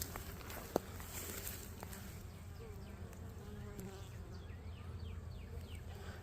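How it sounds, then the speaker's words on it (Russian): Honeybees buzz around a hive, a steady droning hum of many insects with occasional bees passing close, plus a brief tap. "пчелки гоняють, делают свою работку"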